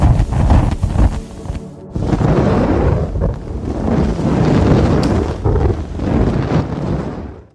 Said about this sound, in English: Recordings of a rare blimp, including engines, some specifics, and a flyby.